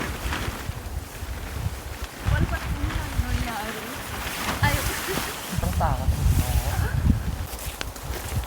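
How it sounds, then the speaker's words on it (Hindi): Strong wind roars continuously through a pine forest at an overnight camping spot in Uttarakhand, rumbling and buffeting the microphone in gusts, with people talking over it. "इतनी तेज़ हवा चल रही है यहाँ पे"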